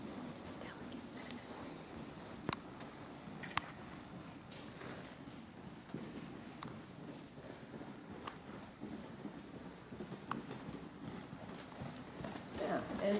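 A horse canters during a riding lesson, its hoofbeats a soft, steady rhythmic thudding under continuous background noise, with a few sharper knocks.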